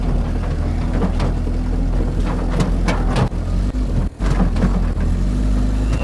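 An abandoned Pontiac car, sitting unused for 20 years, runs with a loud, steady engine drone and several revving surges, continuous and close throughout, with brief dips near the end.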